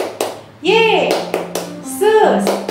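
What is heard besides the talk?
children's hand clap in 'Tepuk Yesus' clapping game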